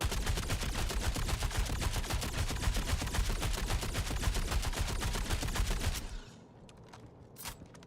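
Rapid automatic gunfire rattles on in the video game Star Citizen, loud and continuous for about six seconds, then cuts off and leaves faint clicks and quiet ambience.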